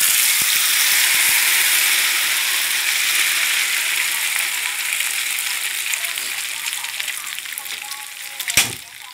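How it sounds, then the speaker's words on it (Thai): Beaten eggs with chili poured into hot oil in a wok for a Thai omelette with fermented pork, giving a loud, bright sizzle that gradually eases, with a brief clatter near the end. "ปล่อยให้น้ำมันร้อนก่อนแล้วถึงจะเอาไข่ใส่ลงไปในกระทะ"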